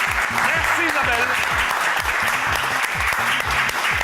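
Studio audience at a TV talent show applauding a contestant, with dense, steady clapping throughout and a voice running underneath.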